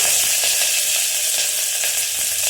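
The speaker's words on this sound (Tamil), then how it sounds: "கடுகு நல்லா பொரிஞ்சதும் இந்த வெங்காயம் பச்சை மிளகாய் ஆட் பண்ணிடலாம்" Chopped onion and green chilli sizzle in hot oil with popped mustard seeds, a steady bright hiss flecked with small crackles, close up and uninterrupted.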